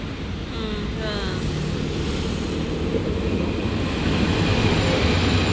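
A light rail train in Kaohsiung gives a steady low rumble and rolling noise that grows slightly louder toward the end, with faint voices briefly audible early on.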